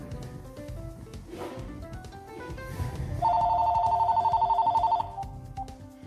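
An incoming call makes a phone ring with a rapid trilling electronic tone lasting about two seconds, loud and close, following a stretch of rustling and handling noise.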